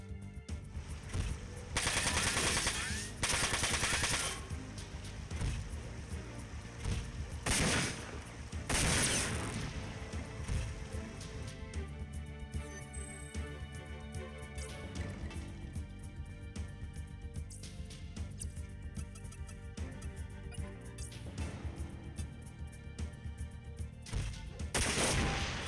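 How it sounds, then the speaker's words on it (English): Repeated heavy gunfire bursts from the Front Mission 4 video game, with several loud blasts and rapid volleys over a steady background of game music and effects. "We'll use the shotgun"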